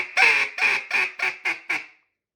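A duck call blown in a slowed, drawn-out greeting sequence: five loud, nasal quacks that shorten and fade in a steady falling cadence, heard up close with no talking.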